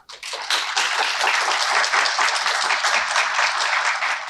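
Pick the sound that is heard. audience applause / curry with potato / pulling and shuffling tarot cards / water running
audience applause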